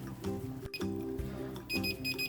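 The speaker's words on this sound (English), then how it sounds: "And there goes our timer." A kitchen timer goes off while marinara sauce is cooking, giving a rapid run of bright electronic beeps that repeats in short bursts with a brief gap, close and clear with no talk.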